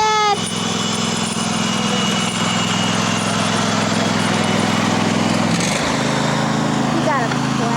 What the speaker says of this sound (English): We got a plow on our lawnmower.